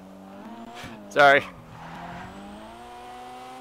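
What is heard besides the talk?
car driving in video game GTA Online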